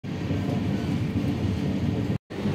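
A steady, dense rumble of the Sealdah–Jammu Tawi Humsafar Express, train 22317, running along the track, heard from inside as continuous broadband noise with a brief dropout near the end.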